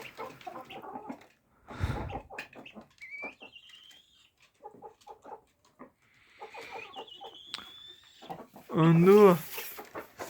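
Chickens and a four-year-old rooster on a Ukrainian homestead, giving scattered close clucks and squawks with a louder harsh call near the end, while someone talks over them.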